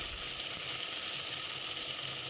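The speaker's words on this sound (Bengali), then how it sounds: "উচ্ছেটা যখন একটু ভাজা হবে নেড়ে চেড়ে দেবেন" Sliced bitter gourd frying in a pan as it is stirred, giving a steady, even sizzling hiss with faint scraping underneath, close and continuous with no talking.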